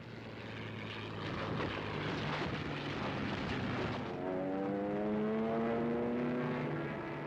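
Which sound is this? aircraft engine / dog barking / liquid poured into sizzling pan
aircraft engine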